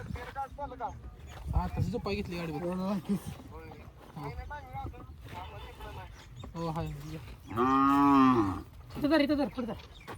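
A calf at a bullock cart race event in rural Maharashtra gives one drawn-out, close moo near the end, surrounded by ongoing chatter from several people and light background bustle.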